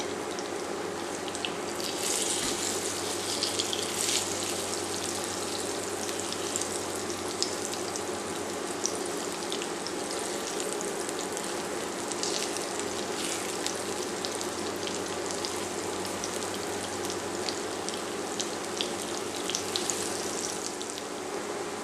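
Plantain slices fry in oil, sizzling and crackling steadily for the whole stretch, a dense, even hiss of frying close by with no voices.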